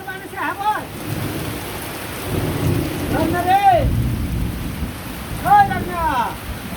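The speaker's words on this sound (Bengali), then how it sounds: "বৃষ্টি বেশি না কিন্তু জরির মতো হয়েছে" Steady light rain falls in a continuous wash of noise, with low rumbling underneath and a few brief voiced sounds breaking through.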